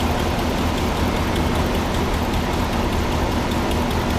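A 1987 Dodge Ram 2WD pickup with a brand new motor idles steadily up close, a continuous even engine drone with faint rapid ticking from an exhaust leak, no voices.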